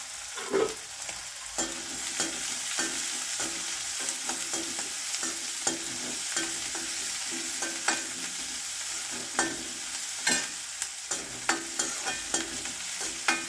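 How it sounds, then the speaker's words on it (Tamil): Onion and green chilli sauté in a pan for a hotel-style Tamil egg masala, giving a steady soft sizzle broken by repeated scrapes and clinks of stirring, close by, with no voice. "அதையும் நம்ம அதை கூட போட்டுட்டு வதக்கிடுவோம் நல்லா."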